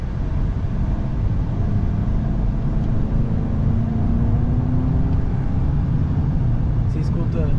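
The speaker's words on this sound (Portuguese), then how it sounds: "Você escuta o escapamento soprando" Ford Maverick pickup driving with a steady, loud exhaust and engine drone mixed with road rumble throughout, with people talking over it inside the cab.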